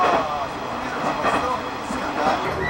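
A fast train speeds along a local railway line, its rumble and wheel noise steady, while a person speaks over it.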